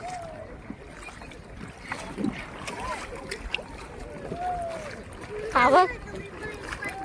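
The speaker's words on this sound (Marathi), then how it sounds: "हाताने बोट चालवतोय." A kayak is paddled by hand on Khavane creek in Konkan, with the rider sitting on a life jacket. Soft water lapping and wind noise run under nearby talk, with one brief splash.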